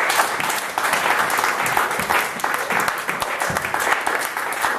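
A church congregation bursts into sustained applause acclaiming the Lord, a steady dense wash of many hands clapping for several seconds with no voices rising above it.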